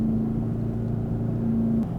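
A car engine idles steadily in first gear with the brakes released, holding about 3,500 rpm on a steep hill, a constant low hum with a faint whine that drops slightly near the end.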